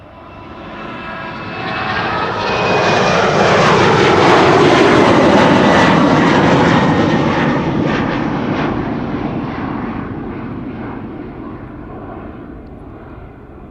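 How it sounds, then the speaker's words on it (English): A KLM jet on the Bremen flight takes off from Amsterdam Schiphol with a loud engine roar that swells over a few seconds, peaks near the middle, then slowly fades as it climbs away, with no talking. "this is KLM flight 1763 to Bremen, German Airways"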